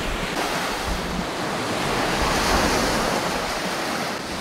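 Ocean surf washes steadily onto a hot beach while wind buffets the microphone, a continuous loud broadband roar with no voices.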